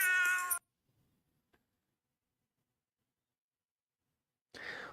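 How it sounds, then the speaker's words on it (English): A calico cat gives a short meow up close, then falls quiet before a second, breathier vocal sound at the end. "She is a calico."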